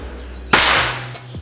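A single sharp crack from a PCP air rifle, a Black Panther model, with a bright broadband burst and a short decaying tail, near and loud against a low steady background hum.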